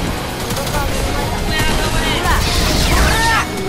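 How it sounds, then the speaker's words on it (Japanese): Explosion in the Fortnite video game, a crackling burst of blasts and sweeping whooshes that swells near the end, heard under excited young voices talking over the game. "爆発。"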